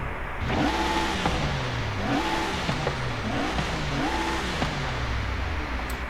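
A powerful V12 car engine in a video game, a Jaguar XJ220 TWR, revs over and over, each rev climbing sharply then sliding back down, a steady repeating pattern with no talking.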